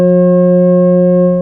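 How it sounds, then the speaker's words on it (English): Steady sustained synthetic tones of F sharp and C sharp, a perfect fifth, sound loud and pure together as one unbroken harmonic drone for the whole span, with no voices. "They are F sharp and its perfect harmonic fifth of C sharp."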